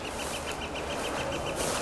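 Geese calling near a nest, ganders and mothers among them, giving a steady run of repeated honking calls over a constant background rush of farmyard noise.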